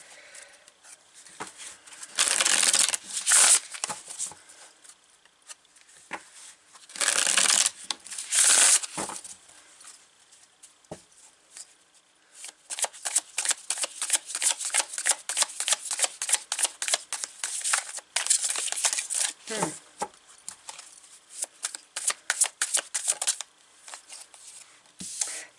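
Tarot cards are shuffled up close, first in a few longer swishing riffles, then in a rapid run of crisp, repeated snaps.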